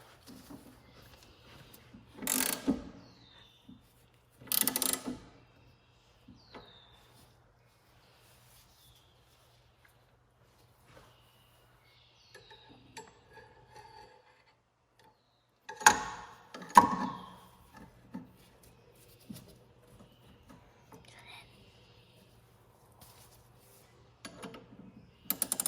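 A ratchet tightens the belt on a VW Beetle in a quiet space, with a few short, sharp clicking bursts spread out between long stretches of near silence, over a faint background hum.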